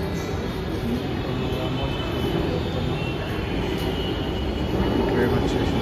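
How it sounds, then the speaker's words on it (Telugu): Panjagutta metro train arriving on the line toward Ameerpet, a steady, fairly loud rumble and rush of rolling stock that holds evenly throughout without pause. "ఇది పంజాగుట్ట మెట్రో ట్రైన్."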